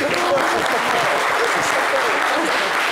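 Audience applause at a live French-language show, dense even clapping filling the room at steady loudness from start to end, with voices faintly mixed in.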